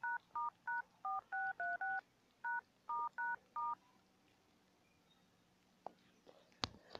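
A phone keypad sounds a rapid series of about eleven clear, evenly spaced beeps as a code is dialed, then goes quiet apart from a few faint clicks and taps.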